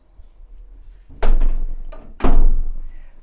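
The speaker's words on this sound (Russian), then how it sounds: "при входе имеется металлическая дверь хорошего качества, со сложными замками" Metal front door of an apartment with complex locks, handled in two loud close thumps about a second apart, each followed by a short rattle, with no talking.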